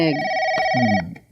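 An electronic telephone ring trills steadily for about a second, loud and near, with a brief voice beneath it before it cuts off.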